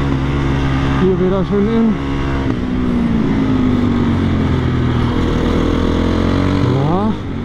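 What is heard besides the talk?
supermoto racing motorcycle accelerating on track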